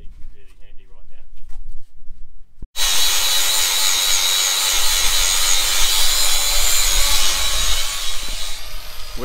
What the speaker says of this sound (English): Henry, as you can see, is just grinding that clean